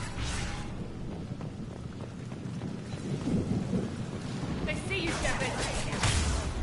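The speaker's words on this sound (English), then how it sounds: "And the rain's even clearer than before" Steady rain pours with a low rumble of thunder underneath in the video game Mass Effect 2 Legendary Edition, while a voice talks over it partway through.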